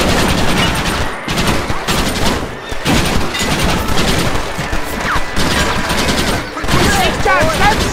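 Gunfire in the video game Red Dead Redemption: loud, close bursts of rapid shots and volleys fire repeatedly with brief gaps between them, and voices shout over the shooting.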